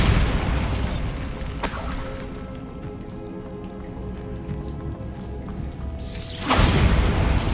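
The Bombarda spell in Hogwarts Legacy goes off with a loud, close burst at the start, then a crackling, rain-like patter of debris fades through a quieter stretch before a second heavy blast near the end.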